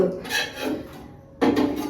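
A metal wok clanks down onto a gas stove, a scraping knock followed by a second louder clatter of metal on metal.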